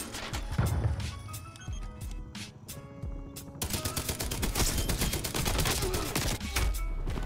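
An M60 machine gun fires in Call of Duty Cold War, loud sustained bursts of rapid automatic gunfire with brief pauses, then a dense unbroken stream of shots that carries through to the end.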